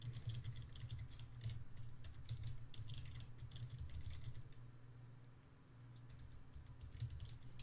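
Keys clack in quick irregular bursts on a computer keyboard while coding a Python number-guessing game, with a steady low hum underneath and brief pauses between runs of typing.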